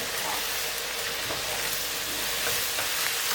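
Steady frying sizzle of Thai eggplant being stir-fried in a pan for a vegetarian basil dish, with faint scraping of stirring, continuous and close with no talking.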